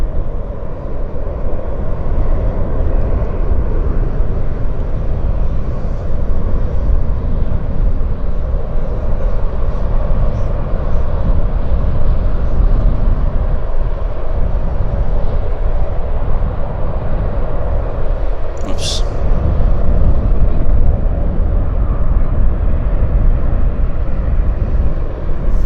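An Air Canada jet takes off at Vancouver Airport, a loud, steady, broad engine roar that holds for about twenty-five seconds with one brief high squeak partway through; nobody speaks.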